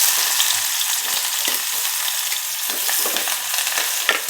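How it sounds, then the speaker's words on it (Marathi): Chopped onion fries in hot oil with mustard seeds, giving a loud, dense, continuous sizzle with a few soft stirring scrapes, heard up close and uninterrupted by talk. "कांदा छान फ्राय करून घ्यायचा आहे."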